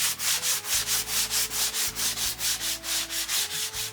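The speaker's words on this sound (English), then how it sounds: "I'm going to take our sanding pad and I'm going to quickly go over the" A sanding pad rubs back and forth along the edges of a board coated with glue, a steady, close, rhythmic scrubbing of about three strokes per second with no talking.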